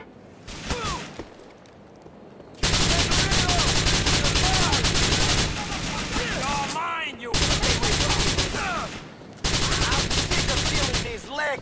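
Bursts of automatic gunfire in Grand Theft Auto IV on PS3, loud dense rattling volleys that stop and restart several times, with whooshes and ricochet-like chirps between them.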